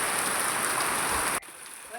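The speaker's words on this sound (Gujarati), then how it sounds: "બાકી ફૂલ વરસાદ આવી રહ્યો છે" Heavy rain driven by wind makes a dense, loud roar. It cuts off abruptly after about a second and a half, leaving a quieter background.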